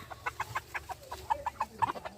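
Chickens roaming around a pond's edge cluck in quick, short, evenly spaced bursts, close by and moderately loud, with a few sharper notes standing out.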